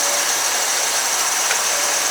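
Car engine idling after a water pump replacement, a steady, even hum with a faint mechanical whine, close and unbroken, with no talk.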